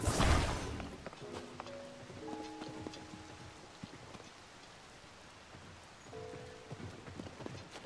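Rain falling in the video game Zelda: Tears of the Kingdom, a soft, steady patter on surfaces throughout, with a louder splash at the start and brief game chimes and tones over it.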